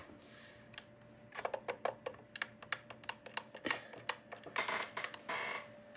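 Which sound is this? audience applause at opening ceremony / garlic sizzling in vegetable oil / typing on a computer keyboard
typing on a computer keyboard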